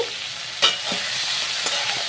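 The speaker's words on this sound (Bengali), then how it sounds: "ভাজার সময় একটু লবণ আর একটু হলুদ দিয়ে নেব" Prawns fry in mustard oil with salt and turmeric, a soft continuous sizzle near the pan punctuated by a few short stirring knocks and scrapes, with no one talking.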